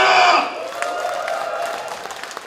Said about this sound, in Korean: 힘찬 박수 보내주십시오